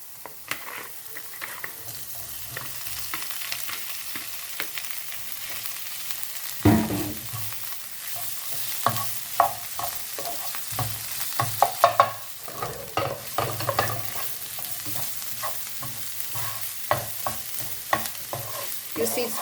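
Corned beef and cooked Irish potato fry dry in a pan without added oil, giving a soft sizzle under repeated scraping and stirring, with a louder burst of utensil scrapes partway through.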